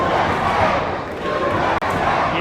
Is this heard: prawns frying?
no